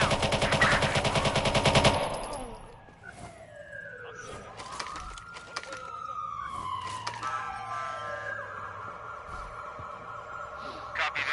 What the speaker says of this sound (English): Squad, we hear gunfire.